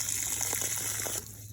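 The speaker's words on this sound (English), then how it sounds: "I've been watering this for about a minute at this level of pressure" Water under pressure from a garden hose soaks the soil around a newly transplanted Japanese maple, a steady close gushing hiss that suddenly thins near the end.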